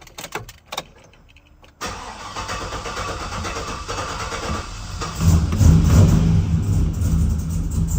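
A car that has sat unused for a week is started with some gas pedal: a few clicks and a brief crank, then the engine catches, settles into a steady run and swells as it is revved.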